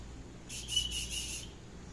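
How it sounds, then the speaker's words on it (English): A small survival kit whistle blown in a short series of about four shrill, rapid pulses lasting around one second, close and clear over a quiet background. "The whistle will work."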